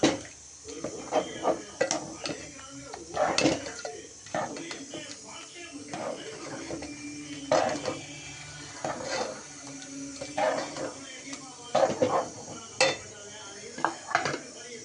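Ground coconut is stirred into a pot of simmering chicken curry with added water, giving repeated close scraping and clinking of a utensil against the pot in uneven bursts.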